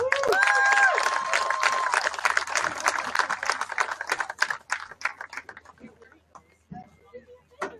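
Spectators at a high school varsity football game between Groton and Moravia applaud the 2024 graduating senior class. The clapping is dense and crowd-wide at first, then thins into scattered claps. A voice over a loudspeaker is briefly heard at the start.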